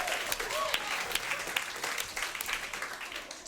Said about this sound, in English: Keep it going for Shannon Laverty